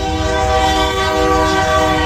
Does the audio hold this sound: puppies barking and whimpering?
no